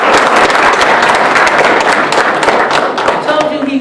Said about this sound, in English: We want to give him another round of applause.